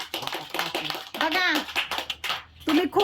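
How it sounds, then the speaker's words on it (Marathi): Family members clapping hands for an elderly grandfather who has started walking again, brief claps mixed under a child's and adults' chatter indoors. "मस्त टाळ्या वाजवा आजोबांसाठी"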